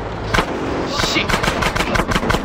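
Rapid automatic gunfire shooting up gang cars in the GTA San Andreas video game, a dense stream of sharp bursts throughout with game sounds underneath.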